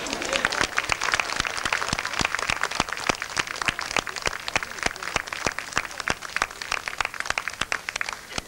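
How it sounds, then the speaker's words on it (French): Applause from a festival crowd at an Assumption celebration in 1987, with sharp, evenly spaced claps standing out above a bed of crowd noise. "De les applaudir une nouvelle fois."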